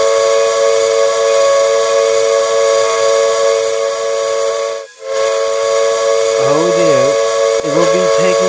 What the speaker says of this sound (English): We have the bells and the whistle.